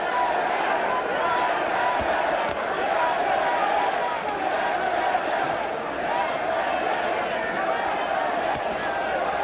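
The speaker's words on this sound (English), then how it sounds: "Polish crowd chanting in Polish on the upper deck." A large Polish crowd in the upper deck of an arena chants during a 1999 heavyweight boxing match, a loud, sustained rhythmic roar with a commentator talking over it.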